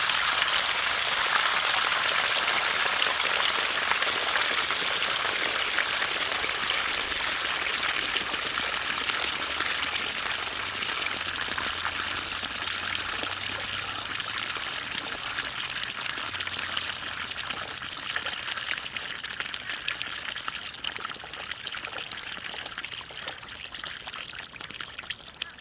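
Water gushing from a disconnected threaded irrigation pipe, a loud continuous rushing pour that stays strong throughout and eases slightly toward the end, with no talking.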